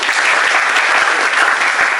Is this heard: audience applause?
yes